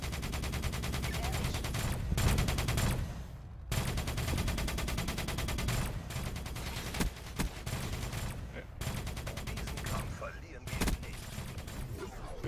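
Dense bursts of automatic gunfire and explosions from a Black Ops 3 multiplayer match come loud and near, broken by short pauses, while players talk over the action.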